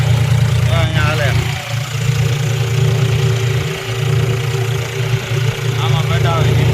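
A tractor engine runs at a steady idle during GPS-guided sowing in a field, making a continuous low rumbling drone close by, with people talking over it.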